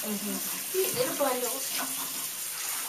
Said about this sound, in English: They're rinsing him off.